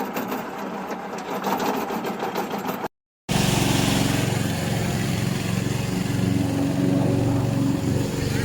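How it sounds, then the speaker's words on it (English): A remote-controlled lawn mower with a moving blade runs steadily and loudly nearby, its engine giving a continuous buzzing drone that cuts out briefly and then resumes louder. "We are remote control mower factory."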